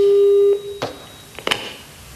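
A steady telephone tone heard over a speakerphone in an office setting, holding for about half a second and then cutting off, followed by a few faint clicks and handling noises.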